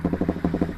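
A Honda CBR150R motorcycle with a remapped stock ECU gives a low, pulsing engine rumble. Quick regular throbs come about every tenth of a second, loud and close, with no voices.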